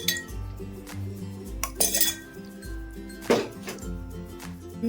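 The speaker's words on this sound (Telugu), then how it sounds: "మనం స్టవ్ వెలిగించుకొని మనం గిన్నె గిన్నెనా పెట్టాలండి" Metal pots and utensils clink and clatter on a stovetop while oil is set to heat for paneer curry, several sharp clanks and scrapes scattered over a low steady hum.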